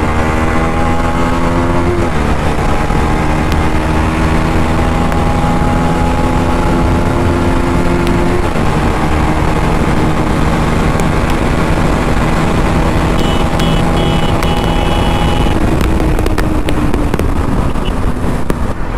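A Bajaj Pulsar NS 200 motorcycle accelerates hard along an open road, its engine note rising through several gears with clear shifts, very loud and close under heavy wind rush.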